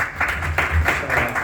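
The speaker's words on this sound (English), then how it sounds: "big round of applause to everybody who's here today" Audience applause at an indoor community gathering, a short steady patter of many hands clapping at moderate volume, with no talk over it.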